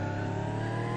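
A Bugatti Vision GT racing car engine in Roblox hums in a steady, loud synthesized drone at high revs, holding an even pitch throughout the brief moment.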